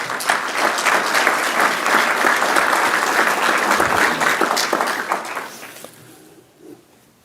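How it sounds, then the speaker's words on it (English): An audience applauds after an evening conversation event on protecting democracy, a dense, steady round of clapping that holds loud for several seconds and then tapers off into quiet. "a round of applause for Jennifer"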